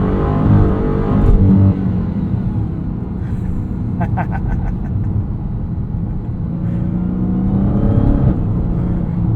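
A 2023 Dodge Charger Hellcat Widebody Jailbreak on wet, drying pavement, its engine a loud, steady low rumble from inside the car that swells slightly with the throttle, with someone talking over it.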